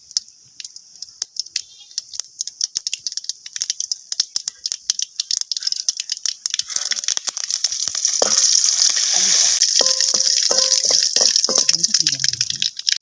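Mustard seeds crackle and splutter rapidly in hot oil, a dense popping sizzle that grows louder partway through, with a voice speaking briefly under it.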